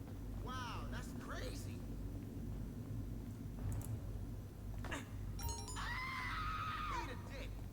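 People scream in the video game GTA 5 over a constant low vehicle rumble, a few short shrill cries followed by a longer sustained wail, with a chime and other game sounds between.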